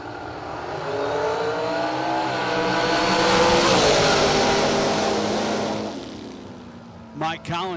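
A red dragster and its rival launch down a drag strip at a memorial race, their engines roaring together in a sustained, loud rising howl before fading, with a brief squeal at the end.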